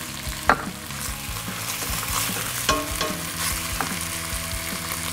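Chopped garlic fries with meat for a Texan-style chilli, a close, continuous sizzle broken by frequent scraping and clattering strokes as the pan is stirred, with no speech.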